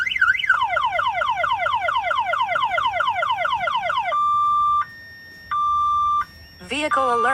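A Dodge Challenger's factory alarm blares loud and close, cycling rapid rising electronic whoops, then switching to long steady beeps separated by short gaps, with a warbling tone starting near the end.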